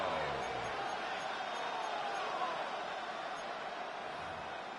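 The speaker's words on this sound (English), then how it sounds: "This crowd turning up the decibel level." A football stadium crowd roars in a sustained, even wash of cheering during a game, with a commentator's voice faintly present over the din.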